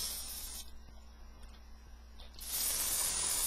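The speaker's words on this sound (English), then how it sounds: "Spray it into my Owada station here." An airbrush sprays cleaning alcohol into a cleaning station, a soft hiss that pauses briefly in the middle and then returns as a louder, sustained spray.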